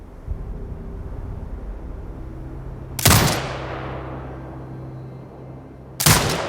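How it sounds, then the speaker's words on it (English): Turret gunfire in the video game Sniper Ghost Warrior Contracts 2 lands as two loud, sharp booms several seconds apart, each trailing off into a long echoing decay over a low steady hum. "Exit binocular mode and command the turret to fire."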